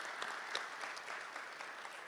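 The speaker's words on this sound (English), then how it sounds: "let's give Celeste a round of applause" Applause from a press conference audience announcing a new Arena Football franchise, a steady wash of clapping hands lasting a couple of seconds at moderate, somewhat distant volume.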